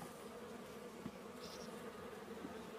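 A colony of honeybees buzzes at an open hive full of brood, a steady dense hum at moderate level running unbroken throughout, with no talk over it.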